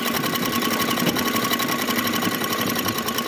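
A sewing machine runs steadily, stitching a seam through fabric in a basic tailoring lesson, a continuous close, even mechanical whir with rapid rhythmic needle clatter throughout and no talking.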